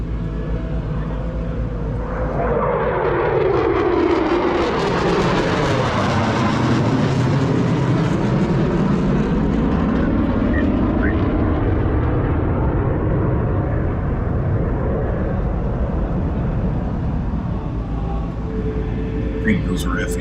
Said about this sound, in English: I think those are F-18s